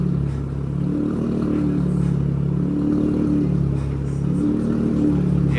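An Audi RS5 B9 with a suspected blown rear differential runs in drive while raised on a lift, front wheels and driveshaft spinning; a steady mechanical engine hum and whir with faint rhythmic clatter, continuous and close.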